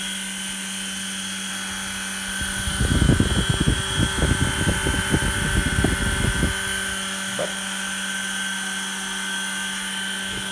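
A steady low mechanical hum from a TechMech milking machine's vacuum, which is not pulsating, with a burst of rapid rattling clicks in the middle, then the droning hum continues alone.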